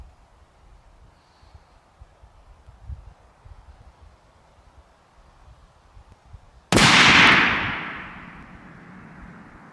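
A .308 rifle firing a 200gr ELD-X bullet at a far target goes off once as a single sharp, loud report, and its blast rolls away in a long fading echo. Before the shot there is only low, faint background rumble.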